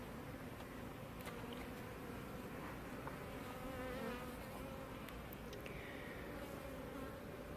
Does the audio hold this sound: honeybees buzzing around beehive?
yes